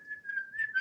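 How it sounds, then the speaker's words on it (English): A person whistles a single steady, slightly wavering tone for under a second, close and clear, with no talking. "I can hear you whistling."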